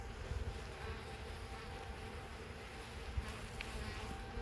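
Honey bees in a stapled, tagged bee package give off a faint, steady, continuous buzz that hums evenly throughout with no voices.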